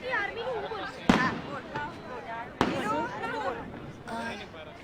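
Diwali firecrackers in Ahmedabad go off as two sharp, loud bangs a second and a half apart while people talk nearby.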